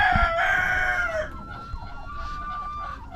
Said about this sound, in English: Oh, Muscovy duck. You hear that?